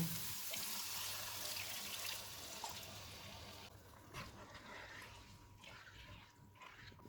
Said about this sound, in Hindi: चूल्हे को कम कर देते हैं और इसमें 2 कप पानी डालेंगे।